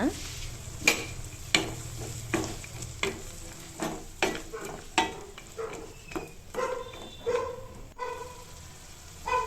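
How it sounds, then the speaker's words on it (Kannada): Ground mint paste frying in a pan for mint rice, a low sizzle under repeated sharp spatula taps and scrapes at a steady stirring rhythm, close and fairly quiet, no talking. "ಈಗ ರುಬ್ಬಿಟ್ಕೊಂಡಿದ್ದೀವಲ್ಲ ಅದನ್ನು ಇದು ಸೇರಿಸ್ಕೊಂಡು ಚೆನ್ನಾಗಿ ಫ್ರೈ ಮಾಡಬೇಕು"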